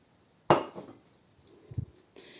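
Flour and dough being stirred in a bowl for Ukrainian school-style ring cookies with baking powder: one sharp clink of a utensil against the bowl, then softer scraping and a couple of dull low knocks, close and alone.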